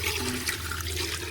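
Water pours into a pressure cooker holding goat meat with ginger-garlic paste and salt for mamak-style biryani, a brief close splashing gush with no talk.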